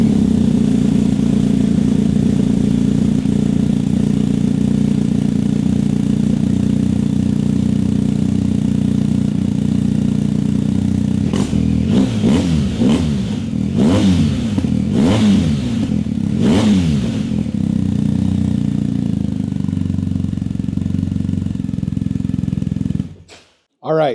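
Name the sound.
BMW 1250 motorcycle stock exhaust idling and revving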